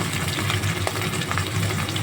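Fish and potatoes fry in hot oil, giving a steady, close, loud sizzle with a fine crackle running unbroken throughout, with no voices.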